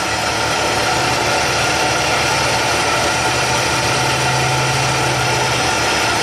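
A Nissan Xterra engine at hot idle with a rich-running fault, heard as a loud, steady low rumble and hum that holds even throughout, close up with no talk.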